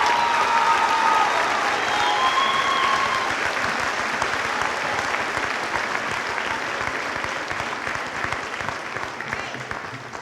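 A high school graduation crowd for the class of 2014 breaks into sustained clapping that fills the hall, with some cheering at the start before it settles into an even, dense patter that slowly fades.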